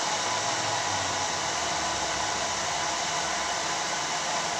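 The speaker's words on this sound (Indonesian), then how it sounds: "kemudian kita nyalakan blendernya. Tunggu sampai benar-benar halus." A blender whirring through shallots and milk, a constant, loud, even motor-and-blade roar with no break or change in pitch.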